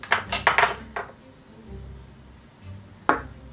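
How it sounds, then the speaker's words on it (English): Softened butter and raw sugar creamed by hand in a medium bowl, with a few quick scraping clinks of the utensil against the bowl at the start and another near the end, separated by quiet. "in a medium bowl, you're going to cream your butter and sugar until light and fluffy"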